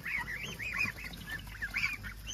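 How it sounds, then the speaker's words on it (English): African geese honking repeatedly in a loose, overlapping chorus, close and fairly loud, with some ducks among the flock outdoors. "the African geese"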